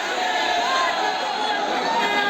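Dense murmur of a large crowd gathered in Uttar Pradesh for a political rally by Asaduddin Owaisi, steady indistinct chatter filling the space without pause.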